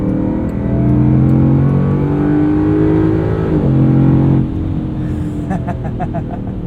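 2022 Land Rover Defender V8 two-door making a hard launch, engine note rising loudly and steadily for about four seconds before dropping back, with a voice talking over it.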